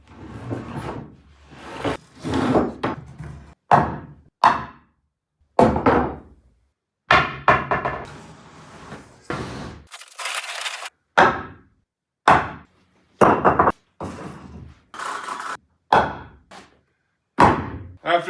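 Repeated heavy wooden whacks as a hand-peeled log handrail is hammered into place on an off-grid log cabin, loud close thuds in irregular bursts separated by short pauses.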